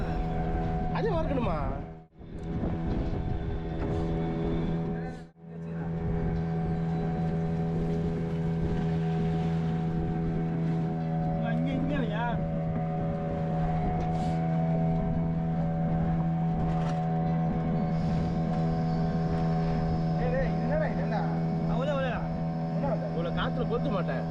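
A fishing boat's engine running at sea, a loud steady droning hum with strong low harmonics that persists throughout, with wind and water noise and someone talking over it.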